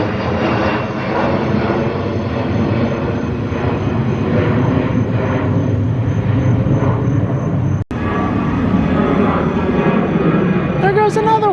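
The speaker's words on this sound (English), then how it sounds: "There goes a third plane." An airplane passes overhead with a steady, loud engine roar that holds the whole time, and a person talks over it.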